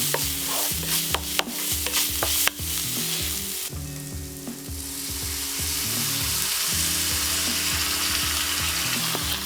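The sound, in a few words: stirring tinned tomato into sauce in a pan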